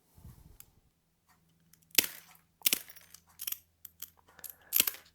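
Ceramic mosaic nippers cut iridized glass up close, giving several sharp, crisp snaps at irregular intervals with small tinkling fragments between them. Nobody speaks.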